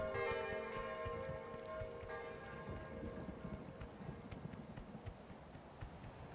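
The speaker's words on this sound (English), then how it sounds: "here comes the rain" Rain falls in the video game Kingdom: New Lands, a soft, steady patter rising as a sustained chiming tone fades out, quiet throughout with no voices.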